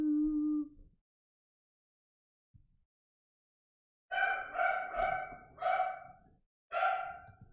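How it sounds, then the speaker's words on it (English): Several dogs barking in quick bursts, with a short earlier yelp and a lone faint knock, loud and close in an otherwise quiet room with no talk. "Oh my goodness, these dogs."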